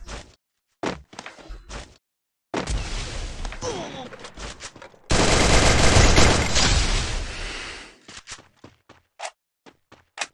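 Gunfire in the mobile battle royale game Free Fire comes as short sharp bursts and a longer sustained barrage of rapid shots in the middle, with quieter isolated shots before and after.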